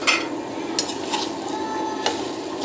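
Vegetables frying in a pan, a close sizzle broken by a few quick scrapes and clinks as they are stirred.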